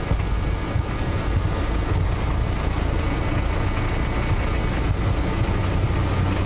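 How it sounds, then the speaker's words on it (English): Albanian Airlines BAe 146-300 jet engines run at takeoff thrust on the runway, a loud continuous roar heard from inside the aircraft, steady and unbroken throughout. "takeoff thrust is set."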